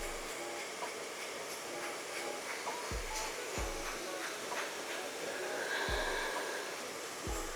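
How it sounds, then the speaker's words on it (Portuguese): A handheld hair dryer blows steadily while hair is brushed straight before clipper work, a continuous airy hiss broken by a few dull brush knocks, close to the mic with no talk. "a gente vai vir com o secador aqui e escovar esse cabelo para alinhar"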